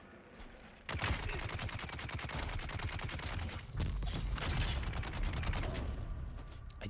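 Rapid, sustained automatic firing from a bug cannon in the Dune Awakening video game, a dense machine-gun-like rattle that starts abruptly and keeps going, fairly loud, with a brief word spoken.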